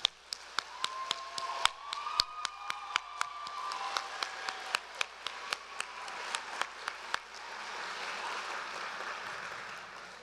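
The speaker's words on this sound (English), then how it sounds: "what about another big round of applause for Vaisali?" Audience applause at the close of a Bharatanatyam dance recital (an arangetram), a steady wash of clapping with sharp, irregular percussive ticks on top and a faint tonal line in the middle, ending in dense, fading applause.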